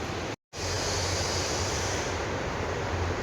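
Water flows steadily behind a person at home, a loud, even rushing roar that cuts out for a split second near the start, then continues unbroken with no talking.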